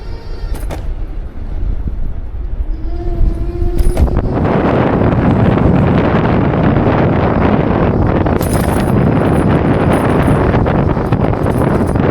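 Heavy wind buffets the microphone in a loud, constant roar during a motorcycle commute ride, with a brief tonal hum and a few sharp knocks early on.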